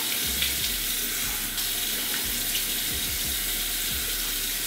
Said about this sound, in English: I can't even wash my hands. I need to wash my arms off.